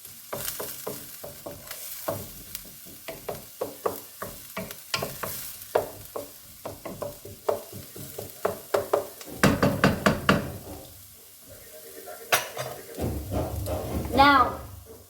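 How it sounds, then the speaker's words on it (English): Onions brown in a pan for vegan achari tikka, sizzling steadily under repeated stirring and utensil knocks against the pan, with a voice talking over the cooking. "Those onions are coming along real good. Keep browning them."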